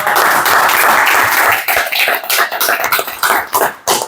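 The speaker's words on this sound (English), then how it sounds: "Once again, a clapping for all the girls" An audience in a spoken English practice class applauds the girls with dense clapping that thins into scattered, separate claps, and no one speaks over it.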